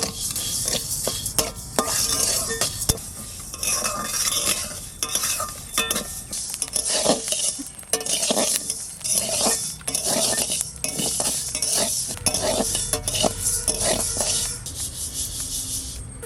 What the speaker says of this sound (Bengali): চালটা আমি ভাজবো অল্প অল্প করে ভেজে নেবো